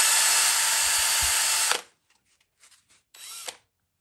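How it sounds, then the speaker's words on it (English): A power drill spins at high speed with a foam cutter attached, cutting into foam. The loud steady whine lasts under two seconds and then stops abruptly, followed by a few faint clicks and a short second whir. "You need your drill on a high speed, as you would for a drill, not a screwdriver."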